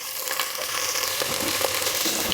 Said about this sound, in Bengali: একটু নেড়ে নিই যাতে পানিটা চলে যায়।